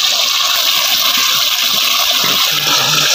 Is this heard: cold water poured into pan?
yes